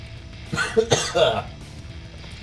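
Coughing fits from someone who choked on a drink, several harsh bursts clustered in the middle, close and fairly loud over a low background murmur.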